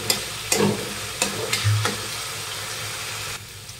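Taro leaves fry uncovered in a pan over low-medium heat, a steady sizzle broken by several sharp scraping stirs up close as the water cooks off.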